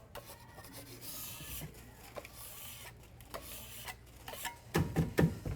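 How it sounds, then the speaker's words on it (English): Dried chocolate is scraped off a kitchen counter, giving repeated rasping scrapes and rubs, fairly quiet at first and then louder and sharper toward the end. "So let me just get this chocolate cleared off."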